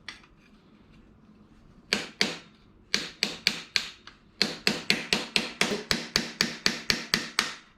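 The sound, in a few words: tapping on engine spark plug cover to loosen it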